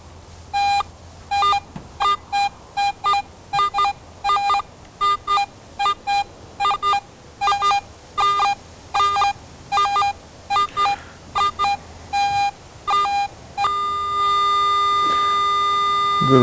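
A Garrett metal detector target tone warbles in quick repeated beeps with a steady rhythm, then settles into a long continuous ringing tone near the end.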